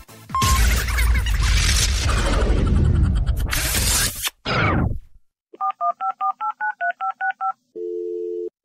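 A telephone call being dialed: a burst of loud, crashing noise gives way to a quick rhythmic run of about a dozen clear touch-tone DTMF beeps, followed by a steady line tone, with no talking.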